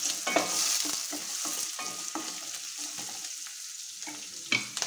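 Onions frying in a pan with chillies and ginger for perugu pachadi, stirred with repeated spoon scrapes and clinks over a soft, close sizzle.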